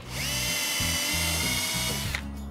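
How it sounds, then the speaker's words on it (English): Small power drill whining steadily as it bores pilot holes into the ends of horizontal wooden boards for a DIY patio project, loud and close, running continuously for a couple of seconds before cutting off. "drill pilot holes using a small drill bit into both ends of each of the horizontal boards."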